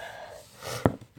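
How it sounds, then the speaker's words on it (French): A person with a cold gives one short, sharp sniff close by, near the end of a quiet stretch of breathing. "si vous entendez que je renifle, ça veut dire que je suis malade"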